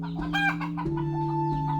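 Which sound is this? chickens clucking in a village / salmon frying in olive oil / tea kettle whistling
chickens clucking in a village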